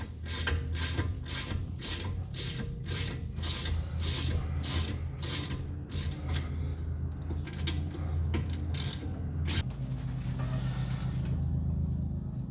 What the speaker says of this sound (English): You might notice while I'm using a ratchet